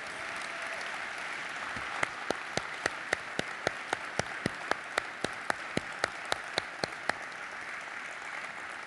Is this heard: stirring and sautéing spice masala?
no